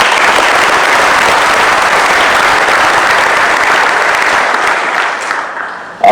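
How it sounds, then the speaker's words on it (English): Audience at a fire basic graduation ceremony applauds the Shreveport Fire Department leadership, a dense, loud, sustained round of clapping that fades slightly near the end. "Let's give the Shreveport Fire Department leadership another round of applause"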